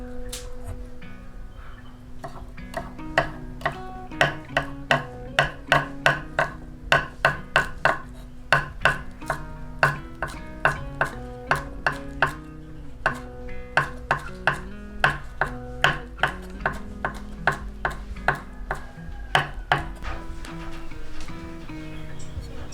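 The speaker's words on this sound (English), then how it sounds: "Now let's cut the green onion and coriander and then put on top the sauce." A knife chops green onion and coriander on a cutting board while Thai fried pork is being made, with rapid, fairly regular sharp taps in bursts, close and crisp over a quiet background.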